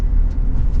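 A 2024 Chevrolet Silverado 1500 ZR2 pickup rolls over a railroad crossing, heard from inside the cab as a loud, steady low rumble of road and suspension noise with faint brief thumps.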